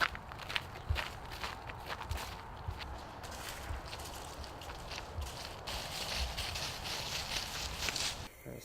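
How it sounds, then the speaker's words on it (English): Footsteps from a deliberately smooth, crouched walk outdoors while filming with a DJI Osmo gimbal camera, soft and steady for several seconds, with light scuffs and rustle, fairly close and without talking. "You've got to use this silly walk to get rid of your bounce"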